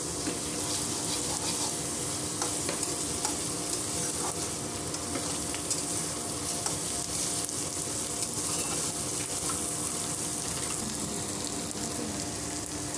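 Ginger garlic paste and turmeric fry in hot oil in a pan while preparing a paneer gravy, giving a continuous close sizzle with faint stirring scrapes and no talking.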